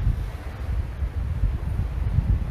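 Strong wind gusts buffet the microphone outdoors, a low, rough rumbling roar that swells and dips unevenly across the short stretch.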